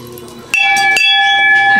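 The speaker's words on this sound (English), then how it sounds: "You can ring the bell up there." A bell rung by a child at the Kalahari Resort Poconos gives two sharp metallic strikes about half a second apart, each leaving a bright sustained ringing tone.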